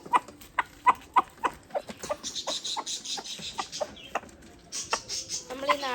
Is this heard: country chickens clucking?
yes